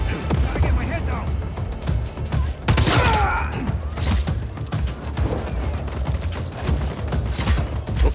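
Rapid bursts of turret gunfire and explosions from the video game Just Cause 4, loud and continuous with a heavy blast midway, mixed with game noise.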